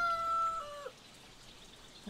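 A brief rooster crow in the video game Force of Nature rings out at the start, clear and tonal, then cuts off into quiet background.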